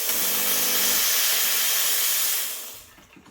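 Steam wand on a Lelit Elizabeth V3 dual boiler espresso machine hisses loudly and steadily for a few seconds, then cuts off and fades, with no talking.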